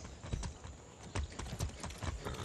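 A horse's hooves clip-clop at a steady walking rhythm in the video game Far Cry 6, distinct close hoof strikes over a low background hum.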